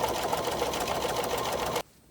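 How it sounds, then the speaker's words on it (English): A sewing machine runs a serpentine stitch across fabric for a tablet cover, a steady fast mechanical whirring that holds at even volume throughout, then cuts off abruptly near the end. "So there, it's stitched with the serpentine stitch"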